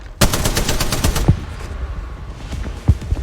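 Apex Legends firefight: a close, loud burst of rapid automatic fire, then scattered single gunshots and heavy impacts through the rest.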